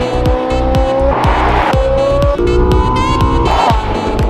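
A black Ferrari 458 Spider revs hard through repeated upshifts, its engine note climbing and dropping in a sawtooth rhythm with tire squeal mixed in, loud and close with no talking.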